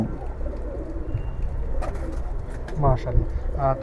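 A Nafta-line pigeon coos twice near the end, each a short, throaty, close-up phrase, over a steady background hum and low indistinct voices.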